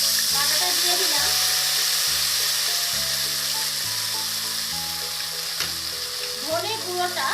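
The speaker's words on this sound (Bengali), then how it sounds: "এবারে এর মধ্যে আমি আদা আর জিরে বাটাটা দিয়ে দিলাম।" Ginger and cumin paste sizzles in hot oil with fried potatoes, a loud steady frying hiss with occasional stirring sounds and a low hum beneath.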